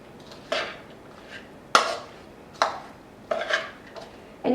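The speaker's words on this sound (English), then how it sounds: "we're going to mix that all up" Burrito filling being mixed in a bowl: a handful of sharp clinks and scrapes of a utensil against the bowl, spaced irregularly about every second, close and fairly loud over a quiet background.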